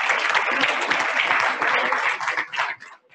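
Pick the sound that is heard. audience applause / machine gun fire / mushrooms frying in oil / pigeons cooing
audience applause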